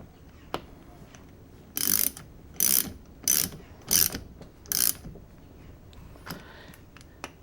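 Ratchet clicking in five quick bursts as it tightens a brass fitting on an animatronic restoration, close and crisp, with a few soft knocks before and after.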